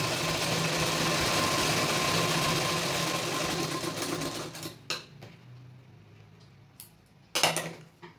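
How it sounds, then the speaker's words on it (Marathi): A sewing machine stitches a tuck on a blouse, its motor running in a steady loud whirring drone for several seconds before stopping, followed by a few brief mechanical clunks and rattles. "आणि यावर बरोबर शिलाई करून घ्यायची."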